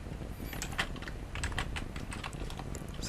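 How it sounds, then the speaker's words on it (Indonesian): Code being typed into a script on a computer keyboard, a steady run of quick, close key clicks over about three seconds with no talking. "Kemudian kita ketikkan functionnya."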